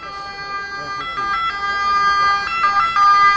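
An ambulance siren wails near a hospital in Italy, a loud sustained rising-and-falling tone over street traffic, with a voice talking faintly underneath.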